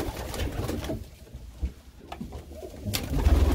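Pigeons in an aviary coo continuously and close by, with soft rolling calls repeating over a low rumble of background noise and no talk.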